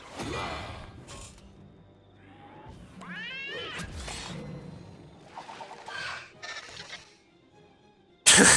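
A cat meows several times in the Wizard101 video game, drawn-out wavering cries with a yowling edge, set among game sound effects and ending in a sudden loud burst.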